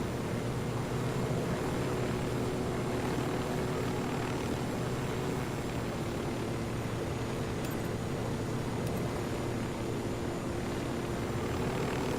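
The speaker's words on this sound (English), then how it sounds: "I never was that good at driving the helicopters in this game." A helicopter in the video game Ghost Recon Wildlands drones steadily with a constant rotor and engine hum, moderately loud and unbroken throughout, with no talking.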